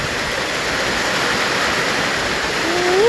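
Heavy rushing water from a flash flood after torrential rain, a dense continuous roar close by and steady throughout, with a faint rising tone near the end.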